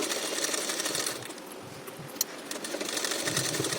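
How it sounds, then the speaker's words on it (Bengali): Sewing machine running steadily while stitching an L-shaped fabric part of a garment front; continuous close rapid mechanical chatter with slight dips and a small click midway. "এবারে এল পার্টের ওপর দিয়ে আমি আর দুটো চাপ সেলাই দিয়ে নিলাম"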